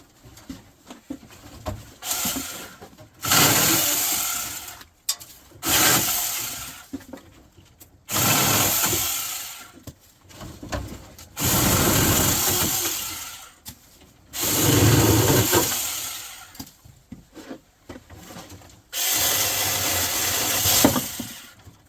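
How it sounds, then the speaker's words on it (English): A small 6-inch battery electric hand chainsaw from LIC cuts short logs for stove fuel in bursts of loud buzzing separated by pauses, each cut lasting one to two seconds, close by with no talk. "I'm going to cut up a bunch of logs real short for like a solo mesa stove style"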